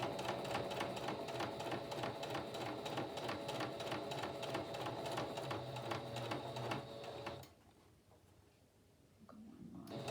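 Sewing machine stitching through a softcover for a journal, a rapid steady mechanical clatter close by for about seven seconds, then stopping into near quiet.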